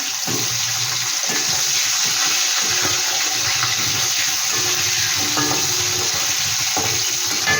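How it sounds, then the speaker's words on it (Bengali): Long-cut potato strips fry in a pan for shol bori, giving a steady, close hiss and crackle of hot oil that runs throughout with occasional stirring scrapes and no talk. "এবারে আলুটা একটু ভেজে নিচ্ছি"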